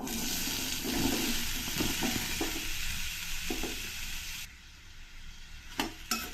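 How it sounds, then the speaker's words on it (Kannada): Small pieces of watermelon rind fry in hot oil, giving a steady close sizzle broken by a few stirring scrapes and clinks, with the hiss easing partway through. "ಇದನ್ನ ಎಣ್ಣೆಯಲ್ಲಿ ಸ್ವಲ್ಪ ಹುರ್ಕೋಬೇಕು"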